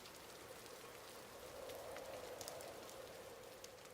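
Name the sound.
rain pattering against a window pane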